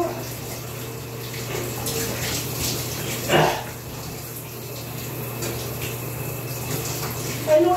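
A bathtub fills from a running tap in a shower room, a steady broadband rush of water that holds throughout with a couple of brief louder splashes or knocks.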